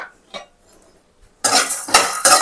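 Whole spices (coriander seeds, a piece of cinnamon, cloves and cardamom) dry-roasting in a pan, with a few faint taps followed by loud scraping and rattling as a utensil stirs them against the metal, close and alone.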